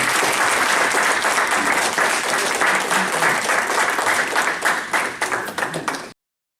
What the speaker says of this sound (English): All right, now let's clap.